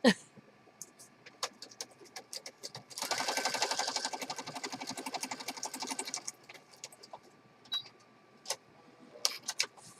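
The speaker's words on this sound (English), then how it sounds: "So see how that just stitched right across there?" A sewing machine stitching across a paper journal page, a fast, steady mechanical rattle lasting a few seconds between quieter clicks and handling sounds.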